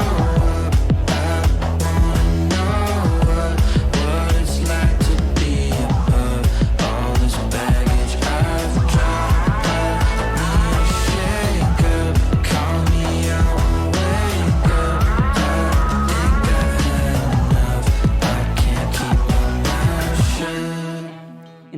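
First chorus of the pop song, a full, dense mix of vocals, beat and layered instruments playing steadily and loudly throughout before cutting off abruptly at the end.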